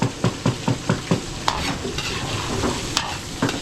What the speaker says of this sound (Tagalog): nag-start na si Kuya Jepoy na mag-prito ng... Chicken manok